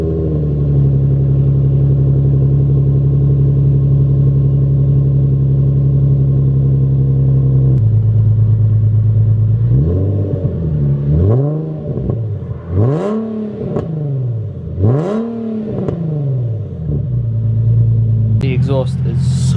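A Nissan 370Z with a Greddy aftermarket exhaust and titanium tip cold starts, cranking and firing into a steady loud idle, then revs sharply several times, each rev rising and falling, with a deep exhaust note.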